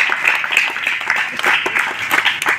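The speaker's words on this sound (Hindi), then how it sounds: "गुटे जोरदार ताली दे दो" Audience applause at a Sambalpuri poetry gathering held during a Rath Yatra programme, steady crowd clapping filling the whole stretch at close range, swelling and dipping slightly without a break.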